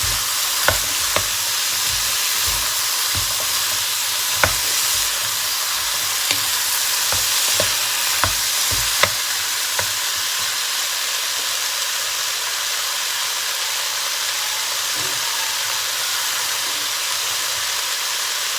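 Cubes of butternut pumpkin tumble into a pan of frying pork belly and mushrooms, setting off a continuous hissing sizzle punctuated by scattered sharp clicks and taps of pieces and a utensil, quieting toward the end.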